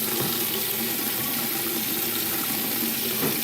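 Tap water runs steadily while knife scales are washed in a sink, a loud, close, continuous rushing splash with faint clinks of handling underneath and no talking.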